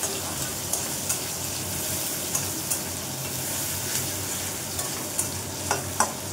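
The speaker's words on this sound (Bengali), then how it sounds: "পেঁয়াজটা একটু লাল লাল করে ভাজা নিয়ে গেলে" Onions sizzle steadily in a hot pan, a constant crackling hiss broken by occasional clinks of stirring.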